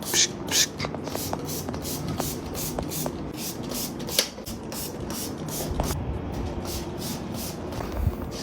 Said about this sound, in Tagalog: Tapos na tayo maglinis mag-i-spray na tayo.